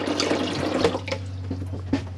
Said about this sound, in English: you've got your hand basin, and that water there is lovely and warm.